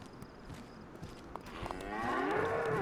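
A cow moos in the video game DayZ, one long, rising, low call that swells near the end over a quiet ambient game background.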